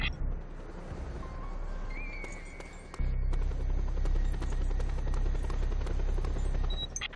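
A helicopter from the video game Just Cause 2 drones steadily, with a deeper, louder rotor roar starting partway through and light clicks and tones on top.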